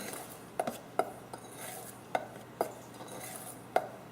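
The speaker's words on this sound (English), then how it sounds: "I'm going to just give it a mix so the chocolate gets mixed up" A utensil stirs a powdered sugar and chocolate mixture for macaroons, giving sparse, irregular clinks and scrapes against a bowl that are close and quiet.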